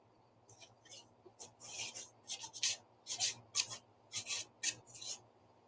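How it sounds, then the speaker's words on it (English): Small plastic Bandai model kit parts are rubbed with a sanding sponge in short, quick, close bursts of rasping strokes separated by brief pauses, with a faint steady hum underneath. "So I have to finish sanding all these little guys."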